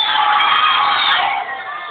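A live audience at a Karol Dance show cheers and applauds for a contestant, a loud, dense crowd roar of shouts and whoops that fades slightly toward the end.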